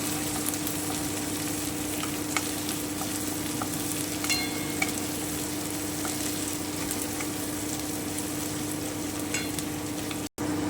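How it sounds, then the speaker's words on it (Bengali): Green chillies fry with capsicum in a pan for chilli prawn, giving a steady, continuous sizzle with faint scattered crackles and a brief dropout near the end, close and alone. "আমি লঙ্কাগুলো দিয়ে দিচ্ছি আমি কিছুক্ষণ একটু ভেজে নিচ্ছি"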